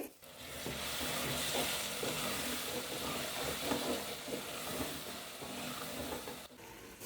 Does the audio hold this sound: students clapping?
no